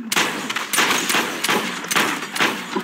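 Rapid gunshots in a multiplayer shooter game, a string of loud punchy cracks repeating roughly every half second, close and dominant.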